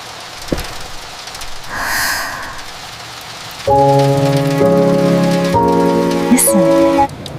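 Steady rain falls on a surface throughout an evening scene, with a soft whoosh near the start. A sustained tonal hum or chime rises over the rainfall partway through, and no one speaks.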